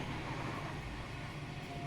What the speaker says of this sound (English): This train is really loud.